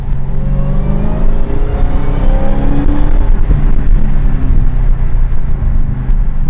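A 2021 Dodge Charger Hellcat Widebody driving through a roundabout, its supercharger whine rising over a loud, steady exhaust drone, heard up close and continuous.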